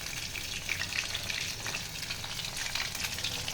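Meat frying in a pan over a low flame, a steady, close crackling sizzle with faint stirring, heard alone throughout.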